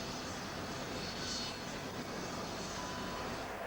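The Kuiper Airborne Observatory, a telescope-carrying airplane, drones steadily in flight with a dense, even engine roar heard from inside the cabin.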